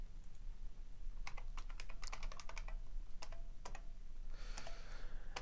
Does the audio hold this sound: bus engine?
no